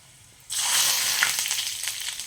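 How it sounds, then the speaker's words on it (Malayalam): Mustard seeds and dried red chillies sizzle in hot oil for a curry tempering, a sudden loud hiss that starts after a brief quiet and crackles steadily close up with no talking. "കടുക് പൊട്ടി വന്നിട്ടുണ്ട് നമുക്കതിലേക്ക് ഉണക്കമുളക് രണ്ട് വറ്റൽമുളകും കൂടെ ഇട്ട് കൊടുക്കുകയാണ്"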